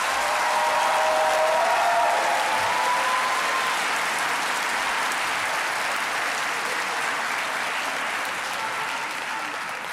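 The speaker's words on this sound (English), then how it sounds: "Please give these medical students a round of applause." A large audience at a medical school white coat ceremony applauds the incoming class, a loud, sustained wash of clapping from many hands that holds steady for the whole stretch and tapers off gently near the end.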